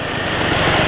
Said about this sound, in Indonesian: Suara mesin tentu udah kasar